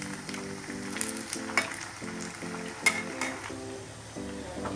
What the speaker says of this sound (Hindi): अब इनको अच्छे सब तरफ से पलट पलट कर क्रिस्पी होने तक हम इन्हें अच्छे से तल लेंगे